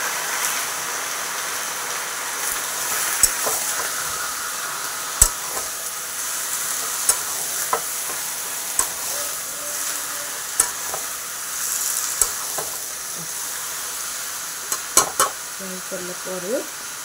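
Onions and tomatoes frying in a pan for chicken curry, a steady soft sizzle with occasional sharp clicks and scrapes of stirring.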